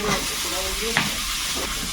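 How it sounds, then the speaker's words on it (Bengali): Potatoes with salt and turmeric frying in oil in a wok, a close, steady hiss of sizzling with a brief scrape of stirring near the middle. "লবণ হলুদ দিয়ে আলুটাকে একটু প্রথমে ভাজবো"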